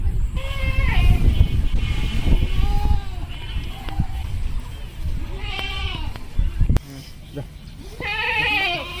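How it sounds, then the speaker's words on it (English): Several goats bleat in repeated wavering cries, some close and loud, over a steady outdoor background with other animal noise, on a river char in Bangladesh. "This is our goats. Every morning they enjoy fresh green grass."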